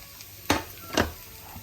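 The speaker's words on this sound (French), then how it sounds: "Je mets la viande dans la grande poêle sur les oignons." Beef being added onto onions in a large frying pan, two distinct scraping clatters over a low sizzle, close and brief.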